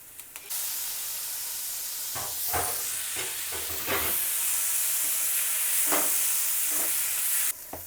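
Coriander powder, turmeric and roasted fenugreek are stirred in a hot pan for baingan bharta. Loud steady sizzling and hissing from frying, with several scraping strokes of the spoon through the middle and no talking.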